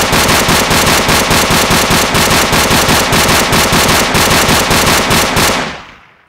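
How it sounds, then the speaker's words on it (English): AK-47 assault rifle fired in a GTA video game: a loud, rapid, unbroken burst of automatic gunfire lasting about five and a half seconds, then cutting off abruptly. "So this is the AK-47."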